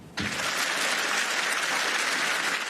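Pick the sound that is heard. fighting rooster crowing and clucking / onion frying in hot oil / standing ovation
standing ovation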